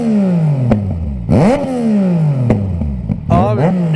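A Yamaha MT-09 with an Akrapovic exhaust blips its throttle in sharp rising revs that fall away, repeated several times close by, with a second engine idling underneath between bursts.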